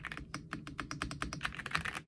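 Rapid, close-up keystrokes on an XS75T 75% hot-swappable mechanical gaming keyboard, a steady burst of crisp clacks with no talking.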